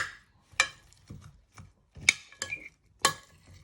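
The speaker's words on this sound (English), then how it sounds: "You want to get your spoon in and just give them a little bit of a coat" Spoon scraping and clinking in a bowl while tossing vegetables with seasoning and oil, a handful of sharp close clatters spaced irregularly over soft rubbing.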